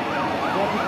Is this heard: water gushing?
no